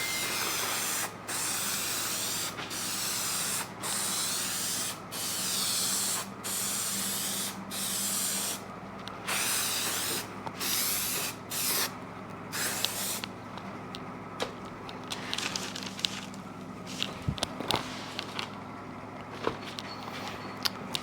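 Spray adhesive is applied to new seat cover material during a Suzuki TS-250 motorcycle seat rebuild, heard as repeated close hissing bursts in short, regular pulses that grow more broken and irregular toward the end.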